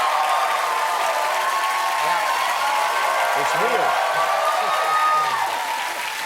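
Studio audience applauding through a late-night talk show taping, a steady broad wash of clapping that holds loud for the whole stretch while someone speaks over it.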